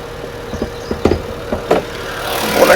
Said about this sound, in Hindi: गाड़ी के इंजन की नॉइज़ सुन लीजिए आप।